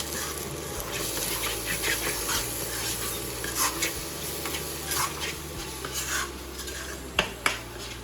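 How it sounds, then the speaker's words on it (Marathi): Vegetables with curry leaves and salt being sautéed in a pan at home, a steady sizzle with a spoon stirring and scraping against the metal, a low hum beneath, and a couple of sharp knocks at the end. "कड्यांचं मीठ टाकते सगळं परतून घ्यायचं"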